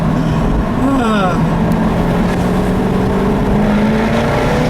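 Low engine drone with a rising rev sweep from a 2015 Jaguar F-Type R Coupe, loud and steady throughout, with what sounds like a voice in the background.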